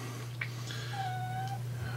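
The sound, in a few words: cat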